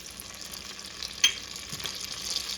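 Butter melting into hot olive oil in a Dutch oven, giving a steady soft sizzle and crackle with a brief louder pop partway through, close and alone.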